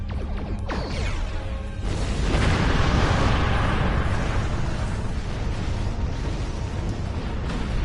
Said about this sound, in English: Somebody bigger is shooting at me now.